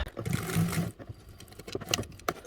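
A sewing machine stitching a 1/8 inch seam allowance along a side edge of a fabric panel, a brief close whirring run of rapid needle strokes followed by a few light clicks and handling taps.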